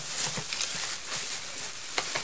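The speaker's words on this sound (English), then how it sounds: "About to rip apart another bag here." A plastic shopping bag is torn open up close, giving a continuous crinkly, crackling rustle with small sharp pops throughout and no talking.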